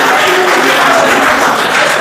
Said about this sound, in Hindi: वेरी गुड, ताली बजा दो